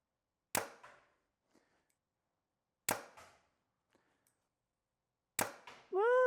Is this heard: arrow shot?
yes